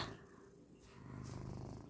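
A contented cat lies on a bed, purring softly and steadily up close, a faint low rumble that swells slightly in the second half, with no talking.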